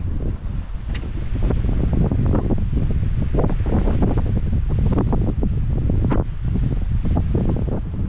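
Wind blows steadily outdoors at Three Mile Lake, a constant loud rushing roar with gusty rumble across the whole stretch and no talk.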